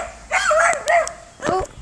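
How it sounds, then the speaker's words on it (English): A dog barks outdoors on a cold day, giving a few sharp, yelping barks at middle distance with short gaps between them. "Oh, Olive's barking"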